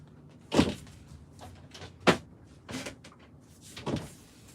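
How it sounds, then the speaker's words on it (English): Several doors thud open and shut one after another, four distinct knocks spread unevenly over a few seconds in a quiet room. "At the other door, see the sounds?"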